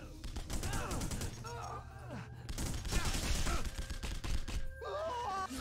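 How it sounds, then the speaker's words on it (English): Gunfire from The Punisher (2005) PC game, bursts of shots crackling throughout alongside game voices and groans, with speech over the action. "I hear bullets"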